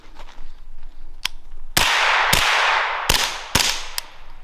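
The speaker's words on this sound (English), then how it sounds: "we're gonna run 2 115s through the gun and then 2 147s" Suppressed pistol gunshots from 115 and 147 grain ammunition: a quick pair of loud sharp cracks, then two more cracks with a long rushing tail, each shot sharp and near.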